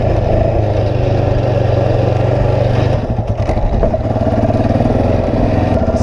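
Yamaha Raptor 700 ATV engine running loud and close, a steady throbbing drone with a brief dip and surge in revs midway, no talking.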